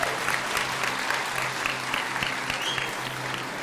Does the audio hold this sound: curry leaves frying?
no